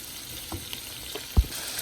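Green peppers fry gently in a pan for chilli chicken: a quiet, continuous sizzle broken by a few light stirring taps, one sharper clack near the end.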